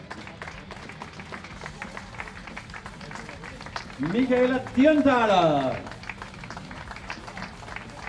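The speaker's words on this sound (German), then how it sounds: "nie mehr aufhören zu klatschen" Audience applause during an honouring ceremony for women racing drivers at the Red Bull Ring, a steady crowd clapping running under an announcer reading out names, with a brief cheer in the middle.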